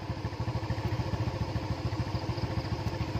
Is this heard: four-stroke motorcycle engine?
yes